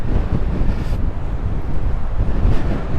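Wind gusts hard against the microphone on the Irish Atlantic coast, a loud, dense roar with the churning surf of a raging ocean buried beneath it, and no voices.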